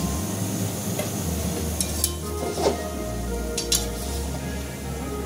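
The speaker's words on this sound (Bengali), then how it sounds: "এবার আমি ভালো করে একটু নেড়ে দিচ্ছি" Kadai chicken being stirred in a pan, a steady close sizzle of frying with soft scraping strokes of a spoon and a few light metallic clinks against the pan.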